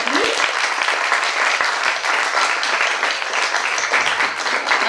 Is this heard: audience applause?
yes